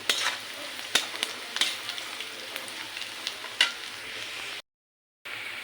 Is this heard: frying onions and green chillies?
yes